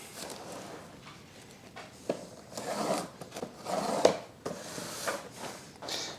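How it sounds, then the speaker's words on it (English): Greased cling film is pulled and stretched over a bowl of rising dough, giving soft crinkling, rubbing and tearing rustles in short irregular bursts, close and fairly quiet. "So I am going to use cling film."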